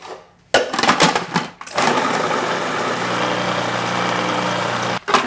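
Blender grinding a small apple into puree, with a couple of short bursts followed by a steady, loud motor whir that stops abruptly and briefly restarts at the very end.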